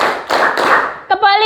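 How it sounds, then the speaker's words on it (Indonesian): A classroom of students claps in a counted round, several dense bursts of hand claps close together, followed by a short spoken voice at the end. "Coba tepuk 1, tepuk 2, tepuk 3, tepuk 4"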